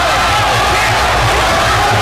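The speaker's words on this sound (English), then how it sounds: "You can hear the crowd rallying now behind the local favourite" Crowd at a fight event roars and rallies behind local favourite fighter Greg Foley, a loud, dense wash of cheering with a commentator's voice over it.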